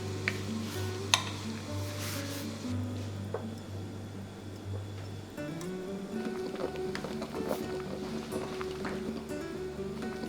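Pork being stirred and seared in a pan for Vietnamese braised pork, sizzling and clattering utensil scrapes under a steady background hum that shifts pitch midway, close and fairly quiet.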